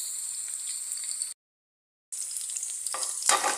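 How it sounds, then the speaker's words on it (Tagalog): Garlic, onion and ginger sauté in a pan for buffalo adobo, a steady close sizzle broken by a brief cut-out, then stirring scrapes and clatter as the frying resumes. "Sinunod ko na po ang ating sibuyas at ang ating luya. Ayan, igisigisa ko lang po."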